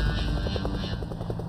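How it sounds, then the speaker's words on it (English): A military helicopter taking off, its rotor thumping in a fast, steady pulse beneath a loud engine roar, close and continuous for the whole stretch. "Helicopters take off within seconds to move out of the range of enemy guns."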